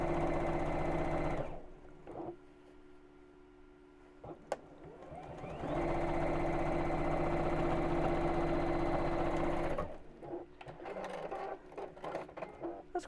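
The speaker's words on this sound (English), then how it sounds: "And let's top stitch that." A sewing machine top stitches fabric in two loud, steady running bursts with a quiet pause between, close up, followed by softer handling noises.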